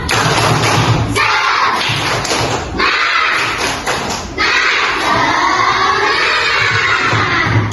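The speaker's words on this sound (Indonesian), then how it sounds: "Tepuk semangat." A third-grade class of children claps and shouts a rhythmic chant in unison, loud and close, with bursts of clapping alternating with chanted voices and a longer shouted stretch at the end.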